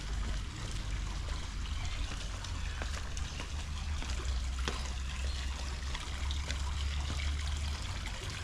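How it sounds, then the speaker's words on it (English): A water feature at an apartment complex trickles steadily in a soft, continuous babble, faint and even throughout with no voices. "It appears to be like a nice little water feature down here as well."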